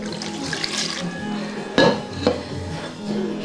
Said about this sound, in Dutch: En dan gaat het water erbij.